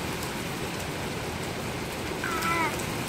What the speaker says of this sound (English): The rain is heavy? It's raining.